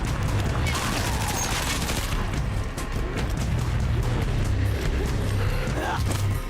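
Gunfire in the zombie survival game Dying Light: The Beast, a dense burst of loud shots mixed with crashing impacts and game noise, under a steady low hum while a player's voice talks over it.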